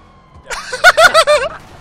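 A voice imitates a police car siren in a short burst of a few rising and falling wails, loud and close, lasting about a second.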